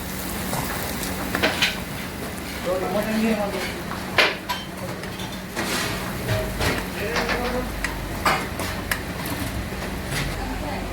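Masala for mutton fry being stirred and fried in a metal pan, with spoon clinks and scrapes against the pan over a steady sizzle, while a person talks throughout.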